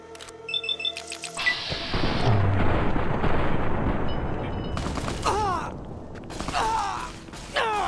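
Loud gunfire in the video game Fallout New Vegas, a sustained burst of shots and booming fire with mechanical clanks, fading and then flaring again.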